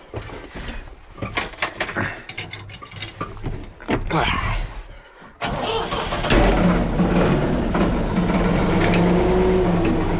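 An old bulldozer's diesel engine is restarted on an icy winter day. It cranks and sputters in bursts, then catches about halfway through and settles into a loud, steady high idle.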